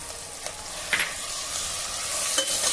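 Potato and tomato being stirred with garam masala in a frying pan for masala khichdi, a soft scraping stir with light sizzling, a few louder spoon strokes standing out against a steady faint fry.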